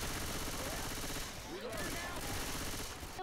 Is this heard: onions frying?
no